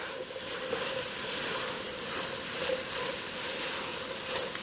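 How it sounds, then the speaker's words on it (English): Steady frying sizzle and hiss of meat and coleslaw being stirred quickly in a hot pan for Chinese fried rice, continuous and fairly faint with slight scraping swells. "we're gonna go ahead and give this a really fast stir"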